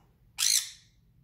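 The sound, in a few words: brightly colored pet bird squawking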